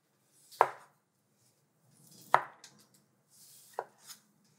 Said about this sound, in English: We're now going to chop the beets for our salad.